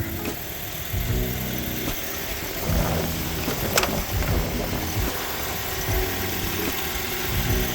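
A car engine starts up again and settles into a steady mid-pitched idle, a continuous close rumble lasting several seconds with slight vibration and no speech over it.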